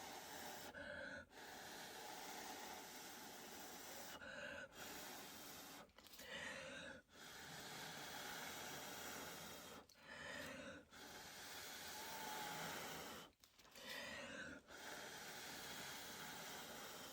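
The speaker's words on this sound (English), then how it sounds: "Blow along the bottom to get it to cross" Air blown steadily across poured acrylic fluid paint with cell activator, long breathy hiss in repeated bursts separated by short pauses, close and continuous, no talking.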